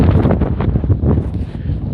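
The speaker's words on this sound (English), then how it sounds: "It's quite windy." Strong gusting wind on a hiking trail in Ocala National Forest, a steady low roar buffeting the microphone with rustling throughout, loud and continuous for the whole stretch.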